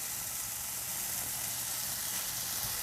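Salisbury steak patties searing in a pan, a steady soft sizzle and hiss with no break, fairly quiet and close.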